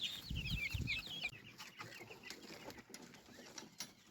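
Busy, chattering bird calls from poultry, a flock of guinea fowl cackling and clucking in overlapping bursts, loudest at the start and fading a little after.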